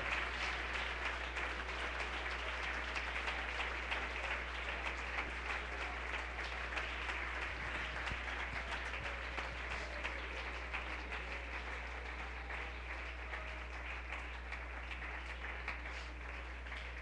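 A church congregation applauds at length during a sermon, a sustained, fairly faint wash of many hands clapping, steady and unbroken over a low constant hum.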